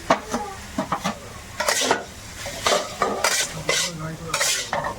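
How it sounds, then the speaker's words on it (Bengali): Potatoes fry and get stirred in a pan, with a soft sizzle beneath repeated sharp scrapes and clanks of a utensil against the metal, close and uneven in rhythm. "আলুটা একটু ভেজে নিয়েছি"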